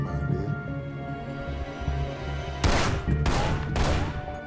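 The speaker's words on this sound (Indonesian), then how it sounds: "Dia pun mengeluarkan senjata dan menembakkan beberapa tembakan ke mobilnya sendiri." Several gunshots fired at a car in a film scene, three sharp broadband blasts in quick succession over a low droning music or ambient bed.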